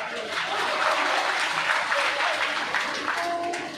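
Audience applause at a gathering in Baripada, Odisha: dense, sustained clapping that holds steady for the whole stretch, with murmuring voices faintly underneath.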